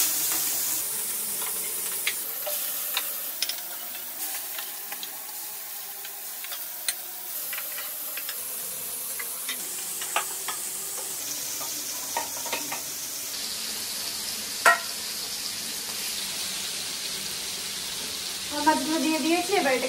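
Fish frying in hot mustard oil in a pan, a steady sizzle running throughout with occasional crackles and ticks, a sharper burst of spattering near the end.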